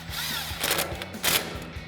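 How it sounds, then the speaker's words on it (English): An impact wrench with a 10 mm socket drives a 10 mm lock nut on an off-road front upper control arm install, firing in two short, loud hammering bursts close by. "We'll go ahead and tighten that down with our 10 mil socket on our impact."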